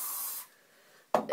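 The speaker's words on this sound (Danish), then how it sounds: "så tager jeg hovedet lidt ned og sprayer ligesom op i håret" Hairspray from an aerosol can is sprayed up into hair held with the head tipped down: a steady, close hiss lasting under half a second, then quiet, followed by two short rustles.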